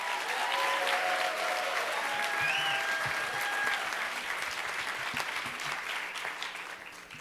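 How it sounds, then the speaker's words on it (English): Sustained audience applause at a story slam, a thick, even clatter of many hands that gradually tapers toward the end, with a faint voice or whistle rising briefly above it. "Keep the applause going for your next storyteller"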